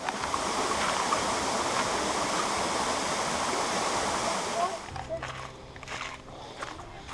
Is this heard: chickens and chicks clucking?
no